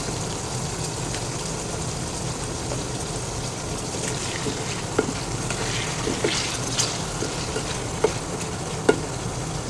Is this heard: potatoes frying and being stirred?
yes